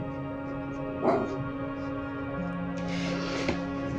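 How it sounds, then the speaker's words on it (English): A dog barks and yips in the background, two brief bursts around one and three and a half seconds, fairly faint over a steady hum and room noise. "you've got a dog barking in the background"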